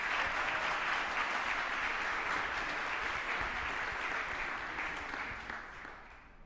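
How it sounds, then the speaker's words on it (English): A crowd applauds presenters at a pitch competition, a full steady wash of clapping that holds level and then tapers off toward the end. "Let's give them a round of applause"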